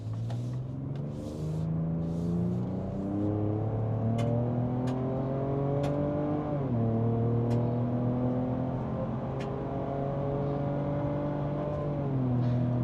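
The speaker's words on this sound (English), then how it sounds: "This Ranger Raptor has a 3-liter twin-turbo V6." A Ford Ranger Raptor with a 3-liter twin-turbo V6 accelerates, its engine note rising steadily through gears with brief drops at shifts, a loud continuous drone heard from inside the truck.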